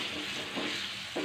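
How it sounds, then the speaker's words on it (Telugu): Tempering seeds sizzle steadily in hot oil while being stirred, a close, even frying hiss with soft swells of stirring, made for a curd chutney served with spinach curd vadas. "తాలింపు గింజలు ఏగితే చాలండి"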